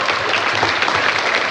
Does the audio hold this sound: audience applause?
yes